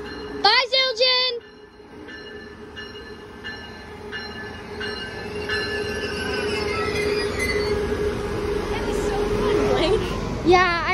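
A passing train led by Charger locomotive 4605 sounds sharp horn blasts at the start and again near the end. Long wheel squeals and a building rumble run between them, close by, with faint voices.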